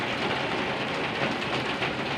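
A loud, unbroken storm downpour roars close by, thick rushing rain hammering surfaces without pause.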